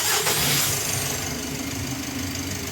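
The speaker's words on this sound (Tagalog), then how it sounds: "pwede mo na ngayon start itong makina" A Mitsubishi L300 Euro4 van engine, freshly given an oil change, turns over and catches, then settles into a loud, rough, steady idle close by, with no voices.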